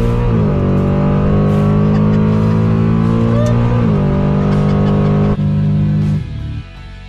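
A loud Malibu car engine revs up and holds high, droning close by, then drops off as the revving eases toward the end.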